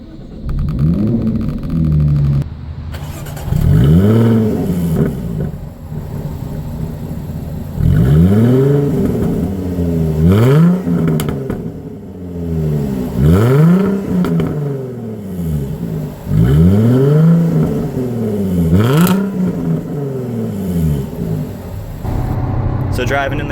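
A 2015 Jaguar F-Type with a supercharged 3-liter V6 starts up with its exhaust valves open, then revs repeatedly in loud rising-and-falling sweeps, close and dominant throughout.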